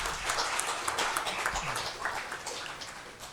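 Round of applause from the audience at a school district governing board meeting, a steady dense crackle of many hands clapping for a few seconds that slowly thins toward the end.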